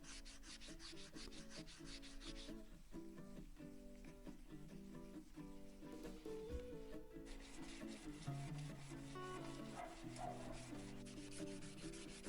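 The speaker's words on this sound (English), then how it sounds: "And then just sanded over the handle again." Sandpaper rubs steadily back and forth over a new oak handle for a large ball-peen hammer, making a continuous close scratching hiss beneath faint music.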